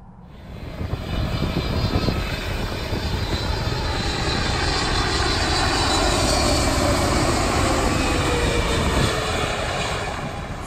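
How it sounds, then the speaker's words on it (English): An airliner lands in strong crosswinds at Lanzarote Airport, its engines a loud, steady jet roar that swells and holds close by for the whole stretch, with no voices. "Watch in awe as a skilled aviator battles strong crosswinds during a breathtaking landing at Lanzarote Airport."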